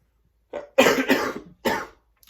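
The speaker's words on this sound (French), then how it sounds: "Une jolie toux." A person coughs three times in quick succession, close to the microphone, with brief silences before and after.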